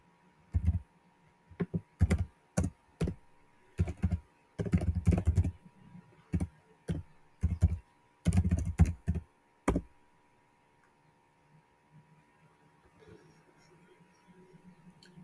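Commands are typed on a computer keyboard in close, clattering bursts of keystrokes over a faint electrical hum, then the typing stops and only the low hum remains.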